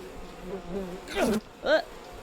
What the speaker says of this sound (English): Oh, those are bees.